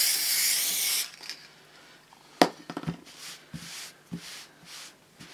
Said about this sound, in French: prendre une bombe de colle en spray